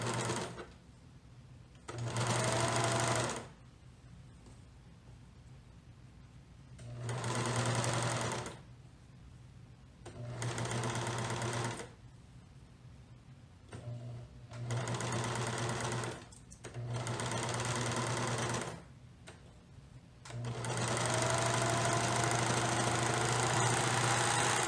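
Sewing machine stitching fabric for baby bloomers with an adjusted cutting width, running in six steady whirring bursts separated by short quiet gaps, near and with no talk.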